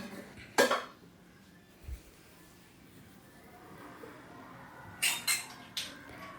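Steel utensils and washed dishes are handled and put away in a home kitchen: a few sharp metallic clinks and clatters come in scattered bursts, separated by quiet stretches.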